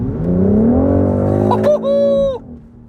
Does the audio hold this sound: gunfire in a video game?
no